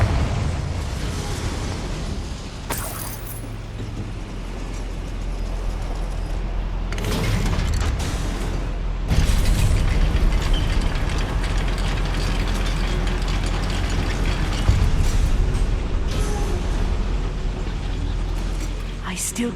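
A Confringo fire spell bursts in a goblin mine in Hogwarts Legacy, booming amid constant grinding, clanking gear and ratchet machinery, with a voice speaking over the din.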